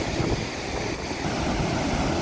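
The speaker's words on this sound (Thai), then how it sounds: "ลมแรง ลมแรง" Strong wind gusting over open water beside a sluice gate during cast-net fishing, a steady loud roar with buffeting wind noise on the microphone throughout.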